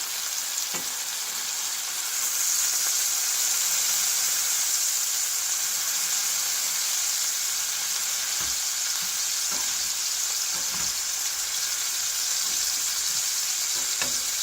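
A burger patty sizzles steadily in a hot pan right after being flipped, a dense, continuous frying crackle with occasional small pops and clinks, close and even throughout, no talking.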